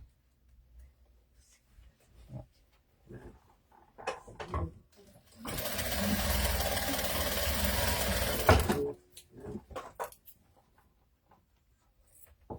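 A sewing machine runs in one steady burst of about three seconds while stitching a doll's clothes, framed by quiet scattered handling clicks and rustles before and after.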